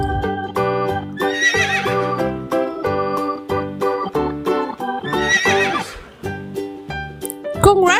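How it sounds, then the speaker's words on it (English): A horse neighs over a bright, rhythmic backing melody of piano-like notes, with no speech. "horse."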